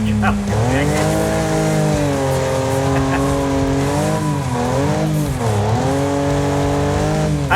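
A race car in a racing video game screams along at high speed, its engine note rising and falling as it shifts, with tire squeal mixed in. The engine stays loud and continuous, and someone talks over it.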